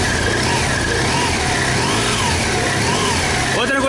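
A BMW GS1200 Rallye motorcycle engine runs loud and close, its pitch rising and falling in repeated revs, with a sharper climb at the end.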